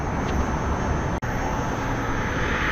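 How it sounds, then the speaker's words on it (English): Steady, loud headwind roars across a Gotway Msuper V3 electric unicycle cruising at speed, a continuous broadband rush with one brief dropout partway through. "Got a lot of headwind right now."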